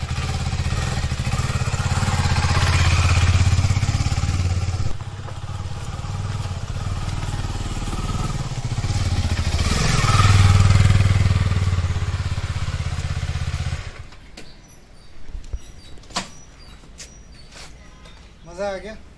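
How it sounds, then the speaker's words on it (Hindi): A KTM motorcycle on a test ride, its engine droning loudly with rising and falling revs under wind, then cutting out and giving way to quieter clicks and mechanical noises. "बट मैं KTM पहली बार देख रहा हूँ और देखते हैं इसका ट्रायल ले, तो ट्राई करके देखता हूँ।"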